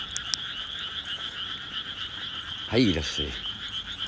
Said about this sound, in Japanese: 雨がカエルうるせえな